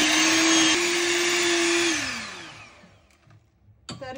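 Electric mixer whirring loudly through cornflour, a steady motor whine that drops in pitch and winds down to near silence, followed by a short clatter at the end.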